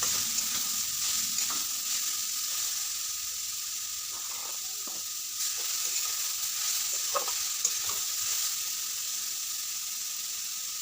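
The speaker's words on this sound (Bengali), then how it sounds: "কুচলো গাজরগুলো দিয়ে ভালো করে দিয়ে একটু ভেজে নেবো" Grated carrots fry in a hot pan while being stirred for carrot halwa, giving a steady, continuous sizzle with soft scraping of the spoon throughout and no talking.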